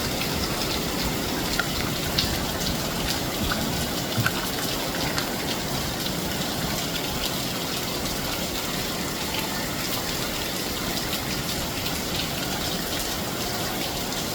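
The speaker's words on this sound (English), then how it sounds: "A lot of rain today." Heavy rain pours down in Jamaica in a steady, dense hiss that stays constant and loud the whole time, with no voices.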